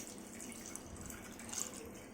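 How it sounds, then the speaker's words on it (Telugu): Water poured into a pot on the stove for Nellore-style pappulusu dal, a faint, thin trickle with light dripping and splashing, quiet and close. "నీళ్ళు పోసుకోవాలి."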